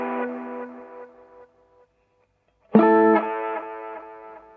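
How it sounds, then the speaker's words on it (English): An electric guitar runs through a bitcrusher pedal that roughens its delays. A distorted chord decays into quiet, then after a short silence another gritty, buzzing chord strikes loud with trailing repeats. "crusher kind of sound, which makes the delays ever more distorted"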